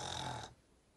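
A voice imitates a bear snoring: one raspy, broad snore in the foreground lasting about half a second, then stopping abruptly into quiet.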